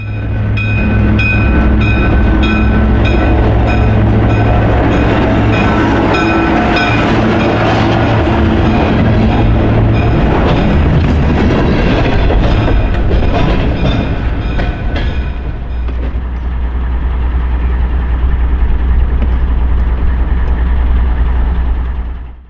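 An ALCO diesel locomotive rumbles past up close near the Tonawanda Creek Bridge, New York, loud engine drone and rolling wheels filling the air, easing into a steady idle-like hum toward the end.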